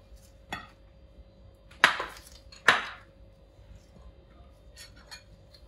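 A knife cuts dates in half on a board in a home kitchen, giving three crisp chopping taps spread over a few seconds. The taps are fairly close over a quiet background hum, with no talking.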